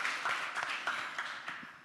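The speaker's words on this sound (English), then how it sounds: "let's give a big round of applause to them." A summit audience applauds the panelists, a brief burst of scattered claps with soft, rhythmic pulses at moderate distance.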